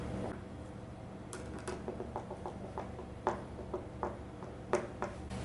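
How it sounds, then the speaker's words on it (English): A cam bolt is screwed by hand into a panel of a Better Homes and Gardens cube desk organizer, making quiet, close, irregular clicks and small ticks over a faint steady hum. "Next, screw your cam bolt into the middle of the panel."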